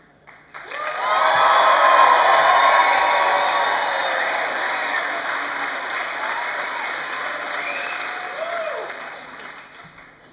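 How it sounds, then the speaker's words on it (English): A graduation audience swells into loud clapping, cheering and whistling, with rising whistles and whoops over a dense bed of applause that builds quickly, then slowly tapers over ten seconds. "clap, cheer, whoop, holler, whistle, whatever it takes, so that we're ready to go when the students come in"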